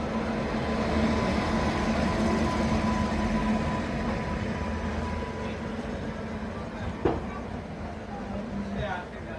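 The Rayalaseema SF Express, train 12794 from Nizamabad to Tirupati, pulls out of Tandur station, a steady low rumble of rolling wagons with one sharp clank near the end, heard from close by.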